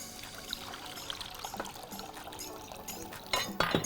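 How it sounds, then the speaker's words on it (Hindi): Water is poured into a cooking pot of rice and cabbage, a soft trickling stream that grows louder and splashier toward the end. "और हम पानी इसमें ऐड करेंगे"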